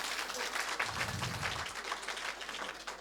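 Applause for a quiz winner at a Sanskrit quiz during a poetry festival, a fairly faint, continuous patter of many hands clapping with no voices over it.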